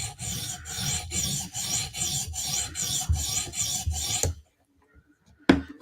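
A Spyderco Slysz Bowie knife edge is rubbed against a sharpening stone in about eight quick, even rasping strokes. A short silence follows, then a single scrape.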